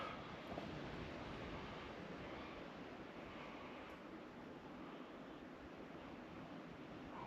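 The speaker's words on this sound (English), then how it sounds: "waves crashing" Ocean waves wash onto the beach at Dungeness Wildlife Refuge on the Olympic Peninsula in November, a faint, steady surf roar with no distinct breaks and no voices.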